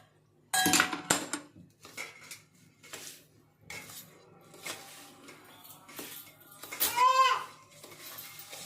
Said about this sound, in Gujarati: હવે આપણે આને હલાવી દઈશું થોડીક વાર.